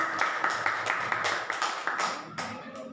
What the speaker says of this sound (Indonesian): Tepuk tangan buat Ibu Anis